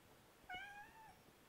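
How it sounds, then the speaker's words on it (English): A domestic cat gives a single drawn-out meow, faint and somewhat distant, rising then trailing off over a quiet background hiss with no talking. "And that's my cat meowing."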